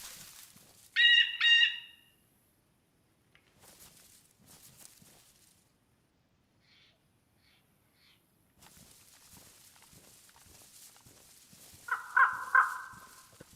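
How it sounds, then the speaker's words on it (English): Crows cawing in the survival video game DayZ, a sharp burst of harsh caws early on and another near the end, separated by quiet stretches with soft footsteps and ambient shuffling. "Wish I could shoot the fucking bird."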